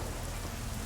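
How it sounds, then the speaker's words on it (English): Rain pattering on a metal dumpster in Deus Ex: Mankind Divided, a dense, even hiss of drops with a low rumbling undertone, steady and close throughout a brief moment without speech. "raindrops hitting the dumpster"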